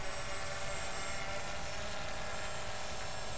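An nnMiG 3 RC model warbird flies at about half throttle, its electric motor and propeller giving a steady, even whine that holds loud and constant throughout with no talk.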